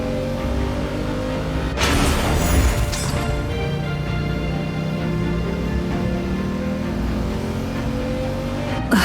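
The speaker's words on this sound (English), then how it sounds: "Rev the engines!" Vehicle engines revving in the video game Genshin Impact: a loud, sustained engine roar builds through the clip with a sharp burst and crash-like surge near the start, over a droning tonal background.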